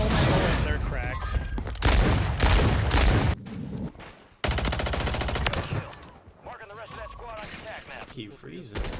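Rapid automatic gunfire bursts loudly from weapons in the shooter game Warzone 3, dense fusillades with short breaks between them, mixed with excited player voices talking over the shots.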